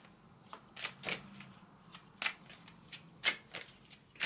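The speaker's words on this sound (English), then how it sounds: "I feel guided to shuffle this deck." An oracle card deck, the Surrender Your Power Oracle, being shuffled by hand: repeated soft riffling bursts and card slaps at irregular intervals, close and fairly quiet, with no talk.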